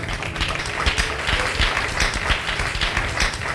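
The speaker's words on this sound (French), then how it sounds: "Sous vos applaudissements." Audience applause at a Bible quiz grand final, a dense burst of clapping from a crowd, loud and close throughout the short clip.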